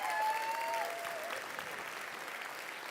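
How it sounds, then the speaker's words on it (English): An awards-gala audience at the Juno Opening Night Awards applauds an award winner, sustained even clapping at moderate distance, fairly soft, with a brief tonal whistle or cheer near the start. "Everybody, another round of applause for that man."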